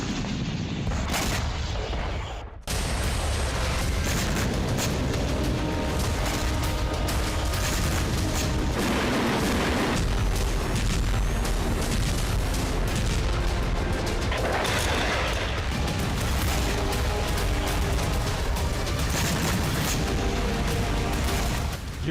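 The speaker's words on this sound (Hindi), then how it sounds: "रूसी सेना ने यूक्रेन के एनर्जी ठिकानों और रिहायशी इलाकों में भी बमबारी की।" Russian bombardment of Ukraine, with dense, continuous booms and blasts of shelling over a loud rumbling wash that stops briefly and then resumes.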